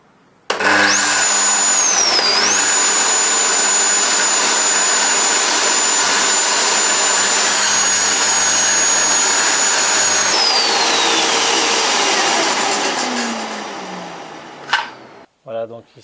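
A circular saw cutting a thin wooden board whines loudly and steadily for about ten seconds, its pitch dipping briefly under load, then spins down and fades as the cut ends.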